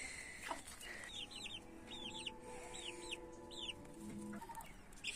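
Village chickens heading into their coop in the evening, soft repeated clucks and short calls at close range, fairly quiet over a low background hum.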